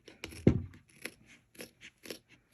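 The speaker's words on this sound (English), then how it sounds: "then you can just use your scissors and go over" Scissors snip and scrape through embroidered fabric, trimming out a stitched circle close to the stitch line; a few short, quiet cutting sounds come close up, with one louder crunch near the start.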